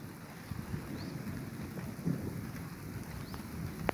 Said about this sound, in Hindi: कोटड़ा ब्लॉक के जेड़ गांव में बारिश फिर शुरू हो चुकी है आज 18 मार्च को